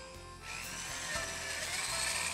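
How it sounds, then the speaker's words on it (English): A power drill whines steadily while boring a 1/4 inch hole through a model railroad layout table, its pitch rising slightly as the bit bites in, with a low motor hum underneath. "we'll drill a second hole next to our controller"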